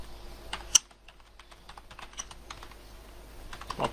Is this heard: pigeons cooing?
no